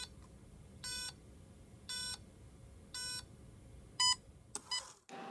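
A Carrera Digital 124/132 slot car control unit sounds its race start sequence: three evenly spaced electronic beeps, then a sharper final tone followed by a burst of noise, all clear and close over a faint hiss.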